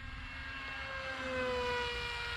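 A Dynam Hawksky V2 RC airplane flies at full speed, its electric motor producing a steady, faint whine that rises and falls in pitch as it passes at a distance.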